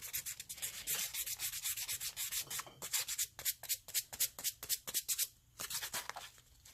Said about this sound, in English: So try and get your sandpaper as close as you can to where that middle seam is.